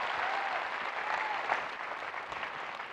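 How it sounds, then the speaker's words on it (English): Audience in a business school hall applauding two people, a continuous even patter of clapping that fades slightly toward the end. "let's give a round of applause for Charlotte and Alex"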